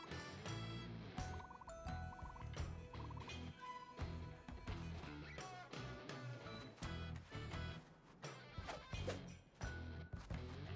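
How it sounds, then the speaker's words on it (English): A glitching bird gobbling in The Plucky Squire, rapid turkey-like gobbles and warbles over busy, rhythmic game music and crashing hits, loud and dense throughout. "It was just a glitch bird, dude."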